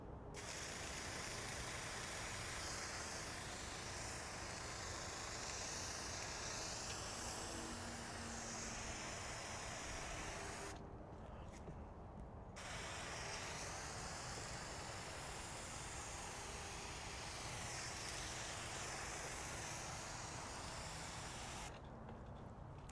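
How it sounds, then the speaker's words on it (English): A motorized sprayer mists water over a car for a rinseless wash, giving a loud, steady hiss that cuts out briefly twice before starting again. "This thing really can mist now because of the motor"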